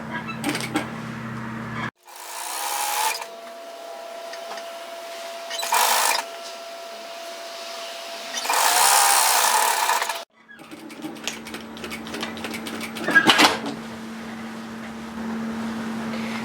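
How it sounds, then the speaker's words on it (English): A domestic sewing machine and an overlocker stitch a side seam down to the hem on a Belle Robe dress, heard as several separate bursts of fast whirring mechanical stitching, close up, with pauses between runs. "just continue stitching all the way to the hem and overlock"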